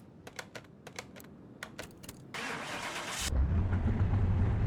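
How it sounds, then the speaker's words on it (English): A V8 in a green Bolt Supernova car cranks with a brief whirring starter burst, then catches and settles into a loud, low idle rumble. Light clicking taps come beforehand. "you can't beat the sound of a V8"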